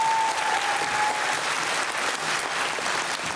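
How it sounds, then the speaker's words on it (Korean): Sustained applause from a concert-hall audience at a post-screening Q&A for a documentary, Jeonbuk National University Samsung Cultural Hall; dense, steady clapping from many hands fills the whole stretch without a break. "박수 한번 주세요."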